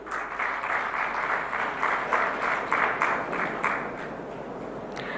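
Sustained audience applause fills a hall during an MOU exchange ceremony at India Maritime Week 2025 in Mumbai, with dense steady clapping holding strong for about five seconds before easing slightly.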